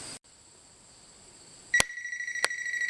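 A storm surge prevention device sounds its alarm as a steady high electronic tone, followed by two sharp clicks and a louder, shriller warning tone that continues at close range.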